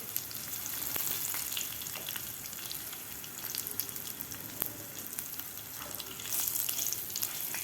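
Curry leaves and asafoetida frying in hot oil make a continuous crackling sizzle with a few sharp pops, held at a moderate, even level throughout.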